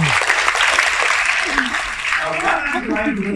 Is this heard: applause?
yes